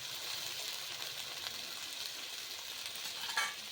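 Coriander leaf paste goes into a frying rohu fish masala curry, giving a steady close sizzle with soft stirring and a brief louder scrape near the end, with no talking.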